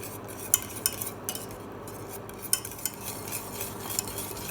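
A spoon stirs rice pudding in a pot, giving soft scraping and repeated light clinks against the metal at an irregular rhythm, close and fairly quiet, with no speech.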